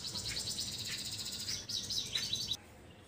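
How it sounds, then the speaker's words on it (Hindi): A small bird chirps repeatedly while building its nest from grass and scraps of light cloth, bright quick calls close by over a low background hum, then stopping abruptly near the end. "आ चुकी है चिड़िया"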